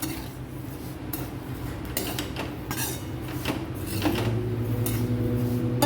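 Peanuts roasting in an iron kadhai for salted nuts give off light clinks and scraping as a utensil stirs them against the metal. The sound is soft and irregular and fills the whole stretch.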